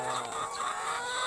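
Laying hens cluck inside a coop, a brief, continuous stretch of close, busy poultry calls with no talking.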